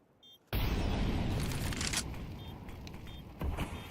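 A grenade detonates in Counter-Strike with a sudden loud blast that cuts in abruptly and rolls on as a sustained roar, decaying slowly, with small crackles of game sound on top.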